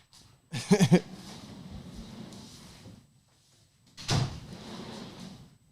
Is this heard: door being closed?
yes